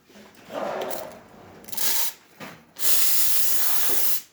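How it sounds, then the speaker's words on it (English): A serviced Rocket Appartamento espresso machine's steam wand hisses in several bursts, building to a loud, sustained high hiss before stopping abruptly. "Nice strong steam"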